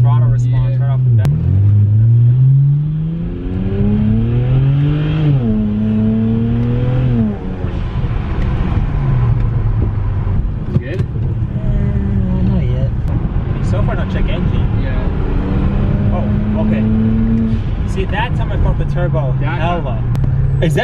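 A heavily modified BMW 335i with a possible turbo fault revs hard, its engine note sweeping up and down in several loud pulls before settling into a rough, rumbling idle, with people talking over it.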